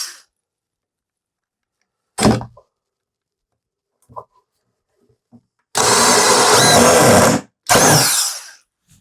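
A power drill drives screws into a handmade wooden table, with two loud, sustained whirring bursts of the motor near the end, preceded by a short earlier burst and a few scattered knocks amid quiet.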